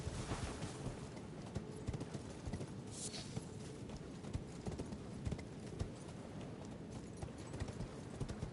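Steady clip-clop of horse hooves galloping without pause in the video game Elden Ring, loud and close, with no talking over it.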